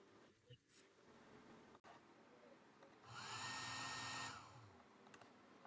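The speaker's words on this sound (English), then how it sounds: "Let's see what it sounds like when we do the blow dryer." A blow dryer starts up and runs steadily for about a second, a loud broadband whoosh with a whining tone, then cuts off after brief background noise.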